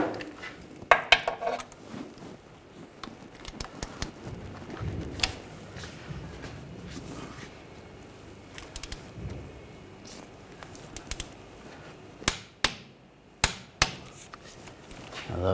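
Torquing rear CV axle bolts on a 2006-2010 BMW 550i gives scattered sharp metallic clicks and clanks of tools on the bolts, close and intermittent, with a quick cluster of louder knocks near the end.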